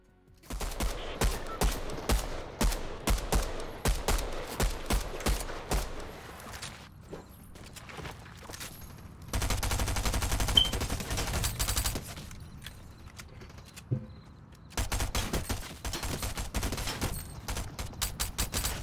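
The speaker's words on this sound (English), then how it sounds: "the machine gun, machine pistol" Rapid bursts of machine pistol fire in a video game, loud and close, rattling in dense volleys with short pauses between clusters and a few heavier sustained stretches.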